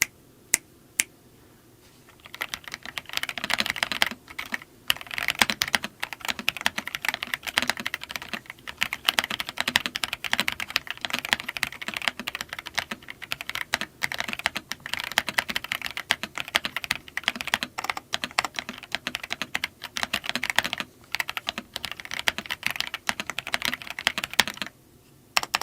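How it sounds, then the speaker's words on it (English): Typing test on a Rosewill Neon S75/S96 keyboard with Cherry MX Brown switches: steady, fast, close clacking keystrokes running continuously for about twenty-five seconds, no speech. "let's dive into the typing test to see how this keyboard truly sounds."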